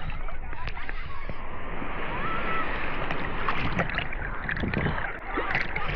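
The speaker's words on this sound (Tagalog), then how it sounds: "Pag tumata, ang lalaki ng alon dito." Large ocean waves roll and crash continuously at a surf spot in New Zealand where people are surfing, a dense, loud wash mixed with wind buffeting the microphone and faint voices nearby.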